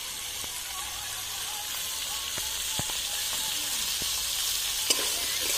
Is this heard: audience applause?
no